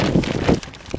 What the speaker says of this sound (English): quite windy as well.